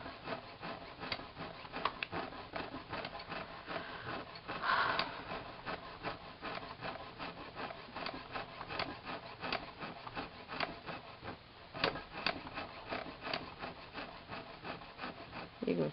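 A hakimaringer saw cuts jump rings from a coil of wire held in a tilting hobby vise, giving a steady, rhythmic rasping stroke after stroke, close and moderately quiet, with no one talking.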